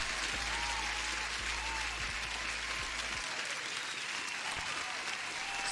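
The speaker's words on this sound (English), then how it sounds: "every subscription deserves an applause" Loud, dense applause from a crowd fills the clip as a sound effect celebrating a new subscription, a steady wash of clapping that runs unbroken from start to finish with a low rumble that drops away partway through.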